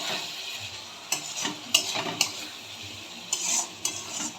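Mutton kosha is stirred in a pan over a medium flame, a spoon scraping the metal in repeated strokes over a steady sizzle of frying.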